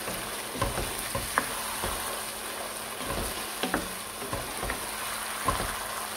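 Boiled, soaked chickpeas are stirred in a pot for chana biryani, with a soft steady sizzle and scattered light scraping and clicking strokes of the spoon throughout.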